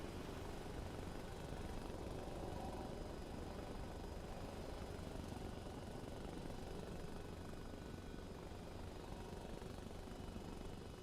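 Apache attack helicopter in the video game Arma Reforger during a front-line battle, its steady rotor and engine drone filling the whole stretch at a constant, moderately distant level with no talk.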